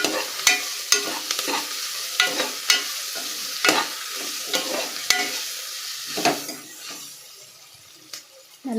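Crushed garlic and ginger sizzle in a hot pan while a spoon scrapes and stirs in quick, irregular clinks, the frying hiss fading slightly near the end.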